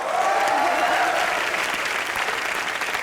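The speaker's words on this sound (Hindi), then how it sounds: "तालियां इसके लिए" A studio audience on a Hindi comedy show applauds for actress Sonakshi, a dense, even wash of clapping that holds steady for the whole moment.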